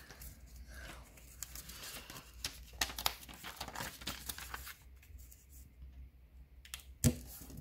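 A sheet of origami paper is folded in half twice in a row, giving a close, quiet series of crisp crinkles, creases and sharp taps, with a distinct snap near the end.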